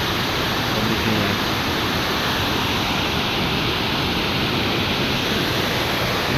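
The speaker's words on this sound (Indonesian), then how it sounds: "Ini ada air terjun ya" A steady, full roar of falling water, constant and broadband with no breaks, like a waterfall at a trash-filled irrigation channel heard fairly close.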